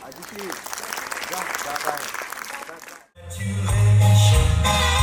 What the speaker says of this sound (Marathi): पुन्हा एकदा जोरदार टाळ्या होऊन जाऊ द्या